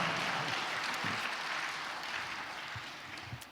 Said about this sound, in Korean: 박수해줘요